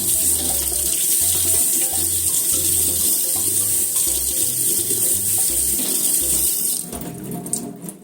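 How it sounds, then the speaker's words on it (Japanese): Tap water runs steadily into a sink while a pumpkin is washed under it, a loud continuous gush that stops abruptly near the end, leaving quieter handling sounds. "はい、かぼちゃ洗いました。"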